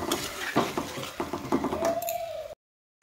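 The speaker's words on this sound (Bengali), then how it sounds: "তো একটু মশলাটাকে আমি হালকা ভেজে নেব।" Spices being lightly fried and stirred in a pan, giving close, irregular clinks and scrapes of a utensil against cookware, then a sudden cut to silence near the end.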